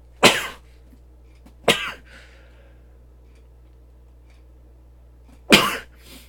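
Three sharp coughs ring out alone in a quiet room, two close together and a third after a few seconds of silence.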